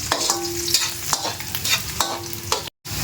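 Ginger fries and is stirred in a pan while cooking catfish nilaga, a close steady sizzle punctuated by scraping stir strokes, briefly cut off near the end.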